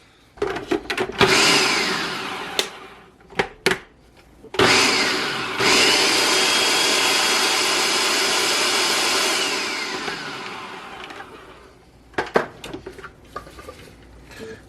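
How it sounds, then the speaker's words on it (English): A food processor blending vegetables for vegetarian meatballs: short pulsing bursts, then a long loud whirring run that winds down, followed by more brief pulses and rattling. "Okay, I just put in the food processor."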